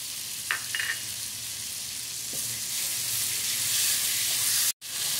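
Green chillies hitting hot oil in an okra masala pan give a steady, even sizzle that runs throughout, with a couple of brief clinks near the start and a sudden cut just before the end.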